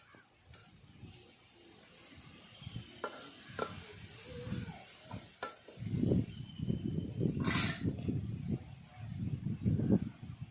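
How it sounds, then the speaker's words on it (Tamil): Cinnamon and whole spices sizzling in hot oil in a pan, an up-close crackle and hiss that swells in loudness halfway through, with scraping and clinking of a utensil against the pan. "எண்ணெய் ஹீட் ஆகிடுச்சு இப்போ பட்டை வகை சேர்த்துக்கலாம்"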